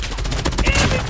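Rapid automatic gunfire rattles in a Call of Duty match, a dense, even string of sharp shots filling the whole brief moment at close range.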